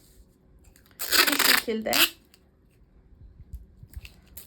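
Sticky tape is pulled off the roll in one sharp, crackling rip lasting about a second, close up, as it is taped onto paper, with a person speaking briefly.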